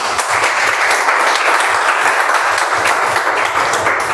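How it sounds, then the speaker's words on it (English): An audience at a Toastmasters club meeting gives a hearty round of applause, thick continuous clapping from many hands that holds steady and loud throughout. "Please give a huge round of applause to those."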